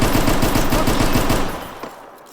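A loud burst of rapid automatic gunfire from the video game Austria Hungry, steady for over a second and then fading into quiet.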